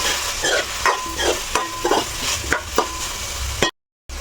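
Vegetables fry in a pan with a continuous sizzle, punctuated by repeated scraping stirs of a spoon at a steady rhythm, close and fairly loud, ending in a brief cut to silence.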